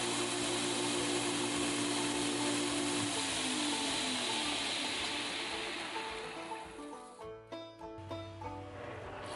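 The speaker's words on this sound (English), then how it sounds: "Now with the oscillating spindle sander, we're just going to start focusing on softening some of those edges that we created with the 2x72" Oscillating spindle sander rounds the edges of knife handle scales on a forged san mai blade, a loud steady motor whine that changes pitch partway through, then winds down into scattered handling noises.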